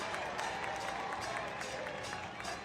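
A crowd at an FC Naples vs Chattanooga Red Wolves SC soccer match keeps up a steady, energetic roar with scattered clapping. The noise sounds distant and spread out and never lets up.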